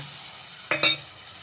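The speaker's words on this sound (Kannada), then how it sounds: "ಆಯಿಲ್ ಕಾದಿದೆ ನೋಡಿ, ಓಲ್ಡ್ ಸ್ಪೈಸ್ ಹಾಕೋಣ" Whole spices dropped into hot oil for a simple mushroom biryani, a steady low frying hiss with two quick sharp crackles as they hit the pan.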